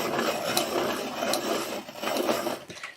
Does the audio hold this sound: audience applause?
no